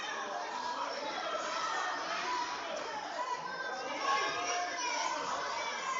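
Steady crowd chatter and shouting from a packed high school gym during a volleyball game, with children's voices mixed in and a continuous murmur throughout, no clear single voice standing out.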